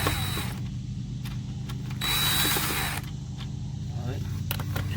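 A power drill or screwdriver backs screws out of a Maax hot tub's topside controller, whirring in a few short bursts close by over a steady low hum, with brief clicks between.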